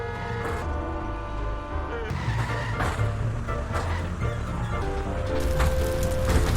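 Car driving and skidding in The Simpsons Hit and Run video game: a loud engine drone with repeated tire squeals and skids, a few sharp impacts, and a rising whine near the end.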